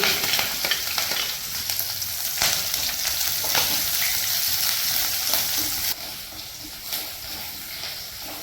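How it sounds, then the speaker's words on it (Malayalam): Curry leaves, ginger, green chilli and garlic frying in hot coconut oil, a loud continuous sizzle and crackle with stirring noises throughout, easing slightly toward the end. "അപ്പം നമുക്ക് വെളിച്ചെണ്ണ ഒഴിച്ചു കൊടുക്കാം. ആദ്യം കരിവേപ്പില, പിന്നെ ഇഞ്ചി, പച്ചമുളക്, വെളുത്തുള്ളി,"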